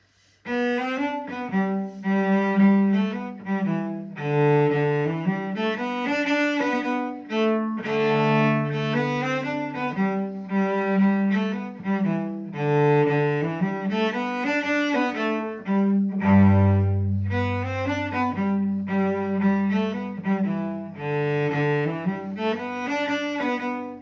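A cello plays the lively barn dance tune "Lucy Farr's Barn Dance" alone, steady and full, with a sustained low note entering toward the end.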